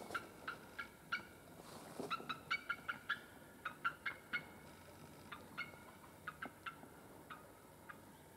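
A sea eagle, one of a nesting pair near an outdoor campsite, gives a long series of sharp, yelping call notes in irregular bursts, moderately loud against quiet background air.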